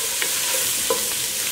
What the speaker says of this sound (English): And we're gonna put the remaining amount of the spices in the pot